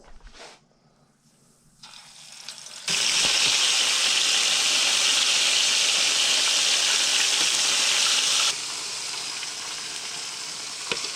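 Self-rising flour drops into hot oil and bursts into a loud, steady hiss and crackle of frying, which later eases to a softer sizzle.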